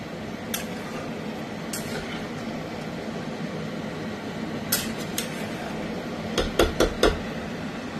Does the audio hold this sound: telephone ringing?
no